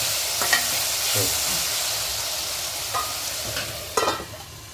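Fish curry ingredients being sautéed and stirred in a pan, a steady close sizzle with occasional louder scrapes and clatters of the spoon against the pan.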